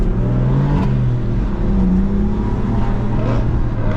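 A loud BMW M3 E92 engine roars steadily close by, revving and accelerating with a deep, droning exhaust note throughout.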